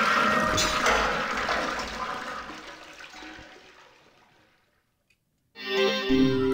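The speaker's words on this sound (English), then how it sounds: "so now we can flush the toilet" A toilet flushes in the video game Killer7 with a loud rushing swirl of water that gradually drains away into silence, followed by music starting up abruptly.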